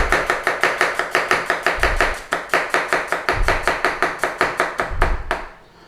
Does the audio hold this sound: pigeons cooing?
no